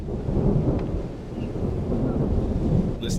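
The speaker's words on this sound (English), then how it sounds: "Listening to this rain and thunder is lovely in the background." Rain and thunder ambience in the Roman city-building game Anno 117: Pax Romana, a low rolling rumble under a steady wash of rainfall, continuous and moderately loud with a faint brief chime near the end.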